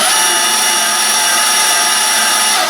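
A SWAG portable bandsaw (Portaband) runs steadily and loudly on its own, a continuous high motor whine with a constant buzzing tone and no changes in pitch.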